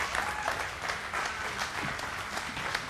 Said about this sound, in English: If you give Mary Lynn a big round of applause